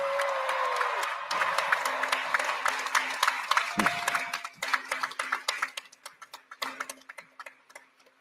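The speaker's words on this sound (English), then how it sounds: "And I think that deserves another round of applause." Applause from an audience at a graduation ceremony, a dense patter of clapping that swells and carries on steadily, with a voice talking faintly over it at times.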